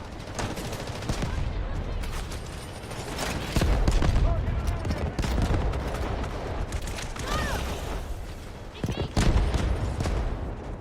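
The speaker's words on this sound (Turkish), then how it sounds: "Mermi oradan geliyor. Füze atıyorum." Rapid gunfire bursts and booming rocket-launcher blasts in the first-person shooter Delta Force, including M249 fire, loud and continuous, with someone talking over the shots.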